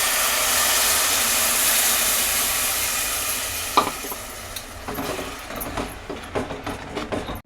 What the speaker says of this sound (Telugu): ఇప్పుడు అవన్నీ వేగాక మనం దీంట్లోకి చింతపులుసుని యాడ్ చేసుకోవాలి